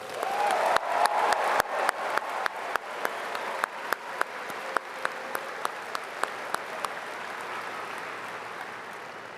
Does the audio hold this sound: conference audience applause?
yes